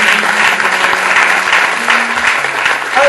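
A church congregation applauds loudly and steadily during a French-language worship service, a dense wash of clapping that carries on throughout without letting up.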